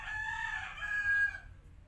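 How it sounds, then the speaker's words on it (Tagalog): A rooster crows once, loud and fairly close, the call rising then trailing off, with a faint low hum beneath and no speech. "Ang daming manok. Narinig nyo ba yun?"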